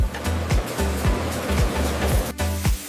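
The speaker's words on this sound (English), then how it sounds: "Sprays wash the peel, with sanitizer held at a controlled concentration." Water sprays wash orange peels on a juice factory line, with sanitizer in the wash water. A steady rushing hiss of spray plays over a low machinery drone, with regular mechanical whooshes repeating about twice a second.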